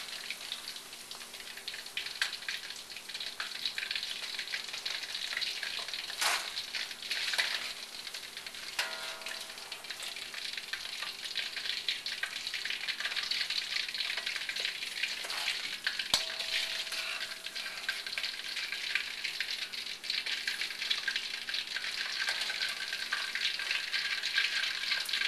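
Sesame chicken sizzles steadily in hot oil in a 14-inch wok, a continuous bright crackle that holds at an even level for the whole stretch, with a few louder spatters and no voices.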